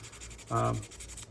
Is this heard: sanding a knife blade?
yes